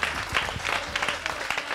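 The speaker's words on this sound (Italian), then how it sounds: "Un grande applauso, Gwendalina!" A studio audience on an Italian summer TV show in Saint-Vincent, Aosta Valley, claps steadily, a brief, dense burst of applause from a modest crowd heard close and without pause.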